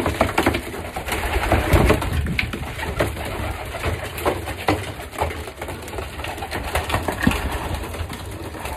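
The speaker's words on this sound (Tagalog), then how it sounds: "Ito po mga kalapati nito," Imported racing pigeons coo and rustle inside a loft, a dense overlapping chorus of low calls with scattered wing flutters and knocks, loud and continuous.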